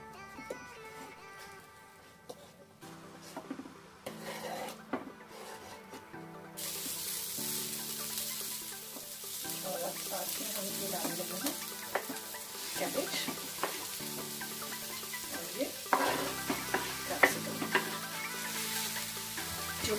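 Carrots and onions fry in a pan with crackling cumin seeds, bursts of sizzling and stirring scrapes under background music, close and moderately loud.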